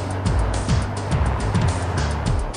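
A Volvo S80L with a six-speed automatic gearbox drives on the road, a loud, steady broadband rush of road and engine noise with rhythmic low thumps, close and continuous with no voices.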